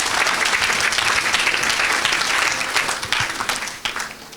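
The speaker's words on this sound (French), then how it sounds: "Est-ce qu'on peut acclamer pour cette grâce?" A church congregation breaks into sustained, dense applause during a sermon, the clapping steady and loud before thinning slightly toward the end.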